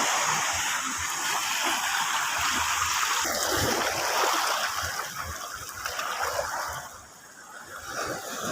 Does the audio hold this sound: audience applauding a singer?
no